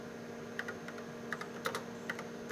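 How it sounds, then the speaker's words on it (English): Keys clacking on a computer keyboard while commands are entered to control a PUMA robot, a series of short, light taps in small irregular bursts, fairly close over a steady background hum. "we have entered exactly these commands in the monitor by using the keyboard"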